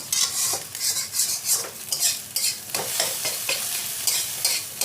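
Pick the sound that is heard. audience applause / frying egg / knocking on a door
frying egg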